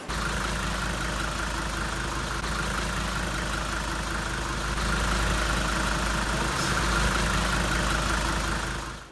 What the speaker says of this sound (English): this proved to be one of the best diesel engines ever made, and many of you will agree, but they have a unique sound.